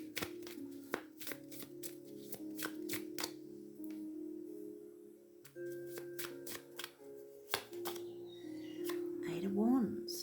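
Tarot cards are shuffled and moved across a surface in a quick flurry of papery riffles and slaps, fairly close, under soft speech and a low background tone.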